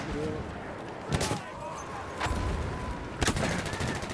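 Gunfire in the video game Battlefield 1, three sharp rifle shots spaced about a second apart over a steady background of battle noise, with a voice talking in between.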